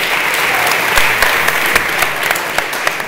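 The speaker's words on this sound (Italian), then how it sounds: "Un bel applauso però a tutti voi" Applause from the audience at a round-table event with asset managers, a dense steady patter of many hands clapping close by, with a few louder individual claps standing out.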